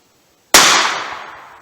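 .38 Special cartridge loaded with a 200-grain lead bullet and 3 grains of Power Pistol, fired once: a sharp, loud pistol crack whose echo decays over about a second.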